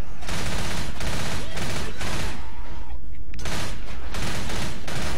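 Uzi submachine gun fire in Left 4 Dead 2 rattles out in loud, rapid bursts, several separate volleys broken by short pauses, with dense game noise behind.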